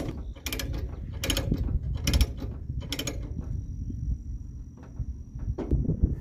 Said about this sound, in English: Simply flip the lever, hold it with one hand, and you can start tightening it down.